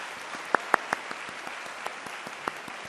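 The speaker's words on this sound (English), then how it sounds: "Give them a round of applause." At a graduation ceremony, a large audience claps in a distant, hall-filling wash, with a few sharper, nearer claps popping out of the steady patter.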